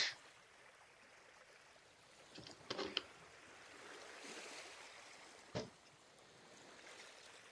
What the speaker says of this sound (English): I literally searched up ocean sounds because of the stuff we're drawing.